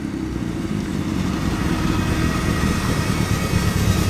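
A BMW motorbike engine fitted in the back of a small car at a breakfast car meet, individual throttle bodies giving a steady rough snarl that swells slightly toward the end, no talk.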